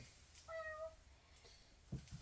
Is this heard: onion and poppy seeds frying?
no